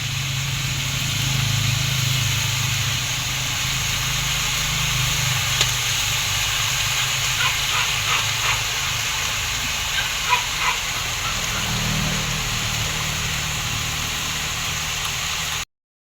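Bean sprouts for lumpiang togue sizzle in a pan with a steady, moderate hiss that runs throughout, with faint clatter near the end.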